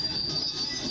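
Freight trash train rolling along a rail line in the Roanoke Valley, a steady rumbling roll of wheels on track with a thin high squeal above it, continuous and fairly close.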